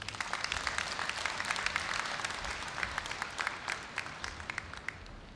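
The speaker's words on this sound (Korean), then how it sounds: "여러분, 법인 이사장님을 큰 박수로 맞이해 주십시오" A graduation ceremony audience applauds steadily as a foundation chairman is welcomed to the stage, dense clapping from a large hall crowd, moderately loud and sustained throughout with no talking over it.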